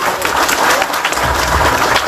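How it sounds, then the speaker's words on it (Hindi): A crowd at an outdoor religious discourse event in rainy weather claps loudly and continuously for the organisers, a dense, close wash of applause throughout. "आप सब लोग एक बार जोरदार ताली बजा करके इसका अभिनंदन करें"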